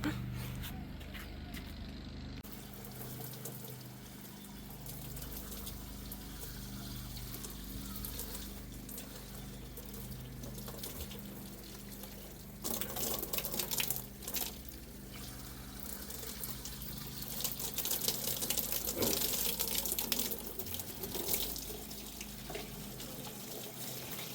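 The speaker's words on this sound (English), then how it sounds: "So that means the water is going to flow out here, as we found out earlier." Water flowing steadily out of a hydroponic vertical planter, a continuous close splashing stream that swells louder partway through.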